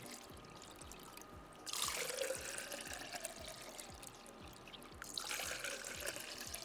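Water is poured for a taste test, a soft, faint trickle and splash that swells twice over a quiet, faintly ticking background, with no one speaking.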